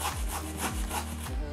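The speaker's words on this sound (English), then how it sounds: "You're gonna just take a grater and you're gonna grate it." Zucchini rubbed against a hand grater in a kitchen, giving a steady run of rasping strokes, about five or six scrapes in quick rhythm, close and fairly loud with no talk.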